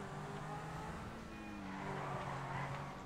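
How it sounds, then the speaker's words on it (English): A Lamborghini in Grand Theft Auto Online revs and accelerates with a continuous engine drone and faint tire noise, heard at a modest level with no voices. "Come on, acceleration of a Lamborghini."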